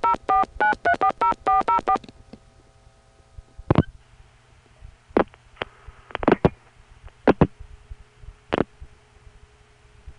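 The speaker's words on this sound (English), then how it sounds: "dialing that same friend with a 1404 in front of his number" Touch-tone keys dial a phone number in a rapid burst of about a dozen evenly spaced DTMF tones, loud and clean. Then comes a quiet line with a few isolated clicks and brief tones.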